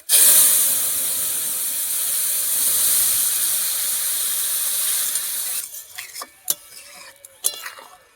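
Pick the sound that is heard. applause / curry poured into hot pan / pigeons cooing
curry poured into hot pan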